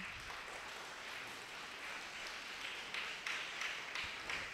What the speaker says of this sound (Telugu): మరి మాకు మీరు గట్టిగా చప్పట్లు కొట్టాలి.